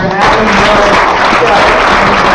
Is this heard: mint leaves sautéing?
no